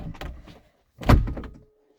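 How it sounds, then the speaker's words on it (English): A loose door rattles and knocks indoors, giving a short clatter followed by a louder, close thump, all within about two seconds and without speech. "Sorry, my door is loose."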